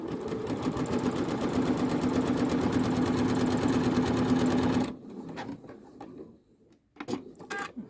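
A Janome sewing machine stitching a twin-needle zigzag on linen fabric runs steadily and close for about five seconds, then stops, leaving faint handling clicks and rustles.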